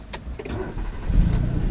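A car engine in a driving-school lesson is restarted with the key, giving a brief starter crank that catches into a low, steady idle close by, with no voices.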